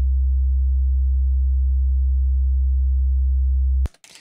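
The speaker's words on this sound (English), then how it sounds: "here I have a C1 sine wave just playing like this." A pure C1 sine wave tone plays as a single steady, very low bass hum at constant loudness for almost four seconds, then cuts off abruptly into brief faint noise.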